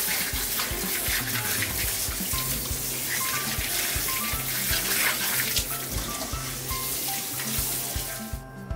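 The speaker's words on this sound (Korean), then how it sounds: "물로 여러 번 헹궈주었습니다." Green tangerines are rinsed under a running tap, with a steady close rush of water and bumping splashes as the fruit is handled.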